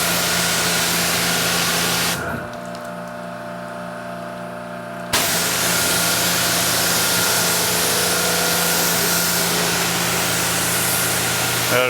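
Water spray rinsing the engine bay of a Ford Raptor, a loud steady hiss that cuts out for a few seconds and then resumes at full strength.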